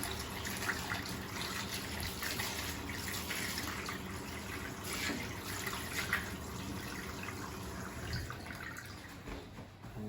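Hands being washed under a running tap, a steady close stream of water with soft splashing and rubbing throughout, with no talking.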